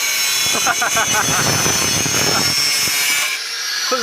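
A grass trimmer cuts grass out in a field with a constant loud whining drone, while people talk close by over it.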